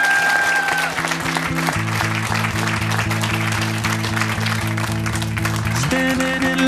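Applause at a trials event, a continuous wash of clapping under loud music with a steady bass beat.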